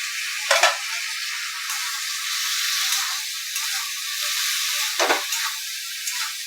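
Tomato plus red chilli powder, turmeric and salt go into onions in hot oil for a Sindhi besan tikki sabzi, giving a continuous bright sizzle with a couple of sharp stirring clatters.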